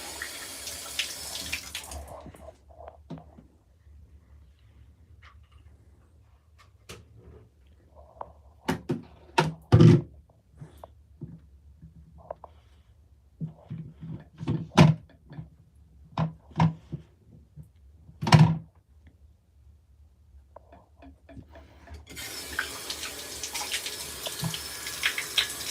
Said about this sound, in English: I'm rinsing it off.